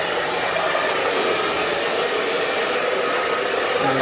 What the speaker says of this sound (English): Lifting here, blow drying that root lifter in there